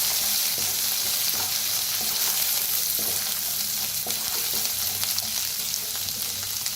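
Turmeric, coriander powder and onion masala roasting in a pan for a bitter gourd dish, giving a steady, close, loud sizzle with occasional stirring scrapes throughout.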